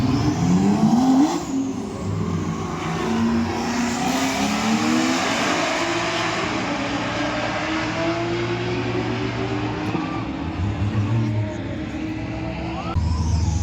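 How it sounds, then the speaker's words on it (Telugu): Drag racing cars accelerate hard down a 402-metre quarter-mile strip in Kuwait, engines roaring and revving continuously with rising pitch sweeps, loud and sustained with no clear speech. "ఈ స్ట్రైట్ రోడ్ అనేది 402 మీటర్లు అయితే ఉంటది ఈ క్వార్టర్ మైల్ డ్రాగ్ రేస్."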